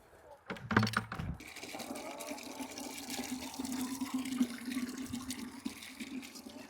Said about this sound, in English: And then we'll just fill up their water.